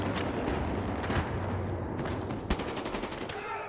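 Gunfire in the video game Battlefield 4 crackles in dense, continuous bursts with sharp shot transients and a rumbling background, loud and sustained throughout.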